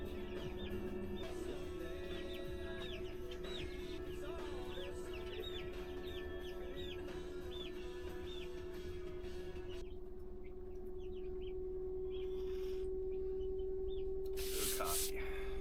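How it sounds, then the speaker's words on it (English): Chickens cluck softly in repeated short bursts over a steady low hum, faint and somewhat distant. "Oh, chickens."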